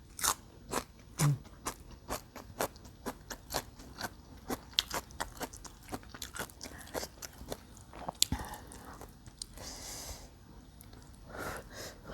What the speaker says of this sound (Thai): กัดเป็นทางกัดกินไปทางก้านเลยนะคะ